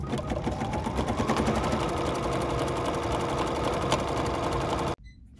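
A sewing machine stitches vinyl appliqué with dark, nearly black thread, running loud and steady in an even mechanical whir for about five seconds before stopping abruptly.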